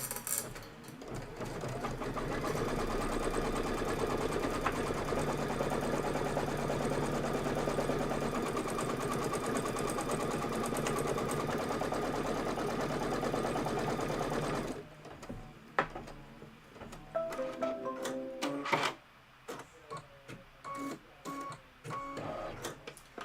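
A Kimberbell embroidery machine runs a tack-down stitch in a fast, steady mechanical whir for about fifteen seconds, then stops, leaving quieter clicks, handling noises and soft beeps.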